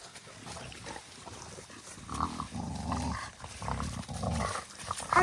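An American Bully dog gives low, rumbling growls in several bursts over a few seconds, close by against a quiet background.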